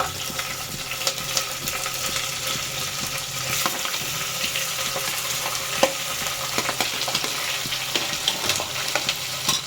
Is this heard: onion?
yes